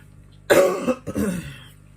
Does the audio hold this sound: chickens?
no